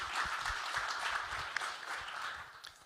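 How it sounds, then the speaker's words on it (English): A cybersecurity forum audience claps in a brief, fairly quiet round of applause, a dense patter of hands heard from some distance. "A round of applause."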